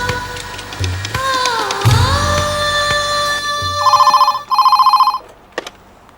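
A telephone bell rings in two rapid trilling bursts, loud and close, following a swell of dramatic music.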